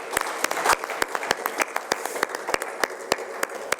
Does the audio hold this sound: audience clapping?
yes